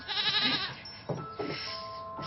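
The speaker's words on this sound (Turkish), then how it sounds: "bahçede keçi var" A goat bleats in a garden, a wavering, nasal cry up close that lasts about half a second, followed by a couple of short, quieter bleats or calls.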